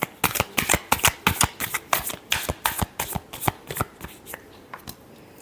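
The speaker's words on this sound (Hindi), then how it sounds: "Last shuffle." Tarot cards being shuffled for a last time, a rapid run of crisp riffling slaps, close and loud, that slows and thins out toward the end.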